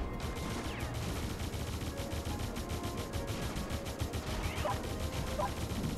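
Gun towers in the strategy game Defense Grid 2 fire in dense, rapid rattling bursts that run steadily without pause, over a busy layer of game effects with occasional higher electronic chirps.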